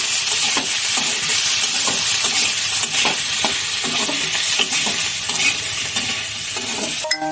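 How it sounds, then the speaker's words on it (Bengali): Chopped green chili and tomato fry loudly in a pan, a dense continuous sizzle broken by repeated rhythmic scrapes and knocks of a spoon stirring, close and with no voices. "কাঁচা লঙ্কা আর দিয়ে নিচ্ছি টমেটো, ভালো করে মিশিয়ে নেব।"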